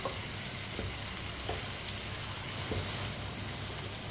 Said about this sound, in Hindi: इसी तरह चम्मच चलाते हुए पकाना है